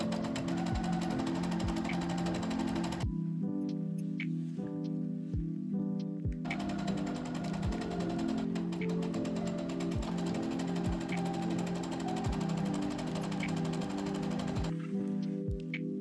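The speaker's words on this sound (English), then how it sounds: "sewed the front and the back of the skirt together along one of the sides" Sewing machine stitching the front and back pieces of a skirt together along one side seam for an apron dress, running in steady continuous bursts with brief pauses and soft clicks between runs, close and alone over background music.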